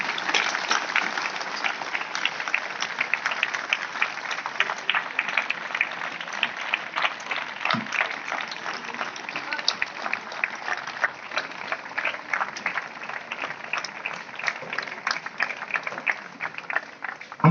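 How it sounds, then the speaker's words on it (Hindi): Sustained, loud applause from an audience at a traffic awareness event in Sonebhadra, many hands clapping steadily and densely for a long stretch with no speech over it. "जोरदार तालियों से और तेजी से।"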